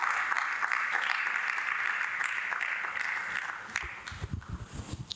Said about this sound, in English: Please, a round of applause for Kelechi Deka.